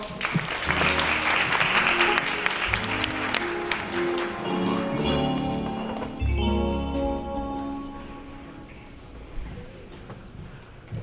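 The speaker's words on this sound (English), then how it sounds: "So please give her a round of applause." Applause from the audience at a Black History Month celebration fades out after a few seconds as music with sustained tones and voices carries on beneath.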